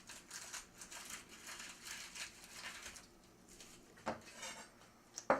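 Romaine-style lettuce wedge being pulled apart by hand, giving faint crisp crunching and crinkling tears in short bursts, close and quiet, with a sharper snap near the end.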